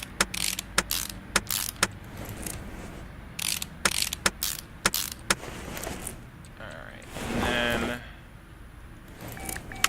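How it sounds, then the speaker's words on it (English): A drive shaft goes into a car in Car Mechanic Simulator 2018 amid a string of crisp metallic clicks and clanks, irregularly spaced, with one longer ratcheting whirr near the end. "Put my drive shaft back in."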